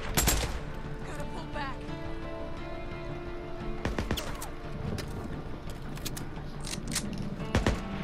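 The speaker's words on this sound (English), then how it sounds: "All this shooting could like bring down a horde on us or something, dude." Gunfire in the video game Days Gone, a run of loud, sharp shots with a burst near the start and a quick cluster in the second half, set over a steady hum of mechanical background noise.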